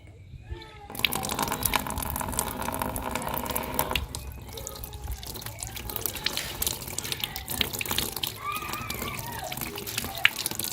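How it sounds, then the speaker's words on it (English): Water runs from a tap while an object is rinsed in a village household in Nigeria, a steady broadband splash lasting throughout, with faint voices and children in the background. "Let me go and rinse it."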